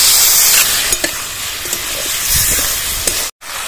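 Spices with ground coriander and chilli paste hiss loudly in a hot pan for a ghugni of fresh green peas, a close, continuous sizzle with scattered scrapes of stirring and a brief cut near the end.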